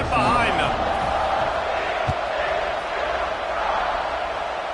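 A football stadium crowd before kickoff, a broad steady roar of many voices filling the space, with an announcer talking over it.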